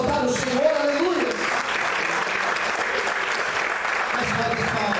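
A church congregation applauding during a Portuguese-language sermon, dense steady clapping that fills the room at even loudness for the whole stretch, with a voice briefly audible at the start.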